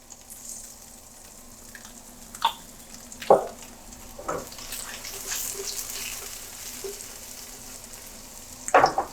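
Paneer cheese sizzling in a hot pan at a steady low hiss, with a few sharp clinks and scrapes of a utensil and one louder clatter near the end; no voices.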